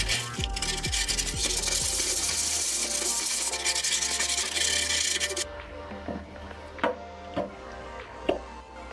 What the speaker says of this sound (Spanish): vamos a lijar